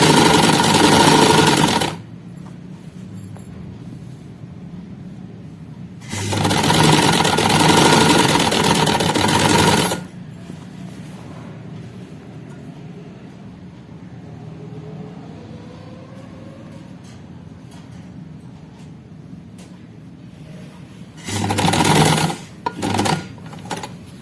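A sewing machine runs in three loud bursts as it stitches along the edge of a kameez strip, with quiet pauses between the runs of stitching.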